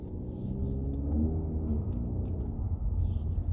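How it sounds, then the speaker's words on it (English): A 2020 Ford Mustang EcoBoost Performance Package downshifting on its paddle shifters gives a steady low engine rumble from inside the cabin, with broadband road and wind noise throughout and a slight rise in level partway through. "Now I'm gonna try to use the paddle shifters too."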